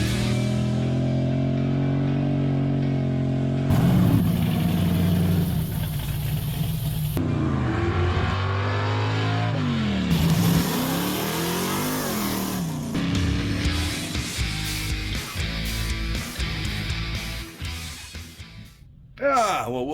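A Mopar 400 big block V8 for a 1964 Dodge Polara 500 runs on an engine stand and revs repeatedly, its pitch rising and falling in loud bursts between idling stretches, with speech at times.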